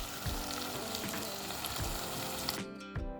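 Mutton curry with spices frying in a pan, a dense, continuous close sizzle with a few soft stirring knocks, which cuts off near the end.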